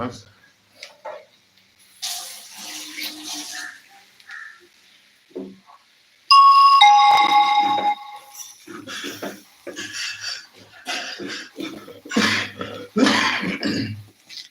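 A couple of short coughs and throat clearing sound close up, followed by a burst of clattering noise and scattered talking.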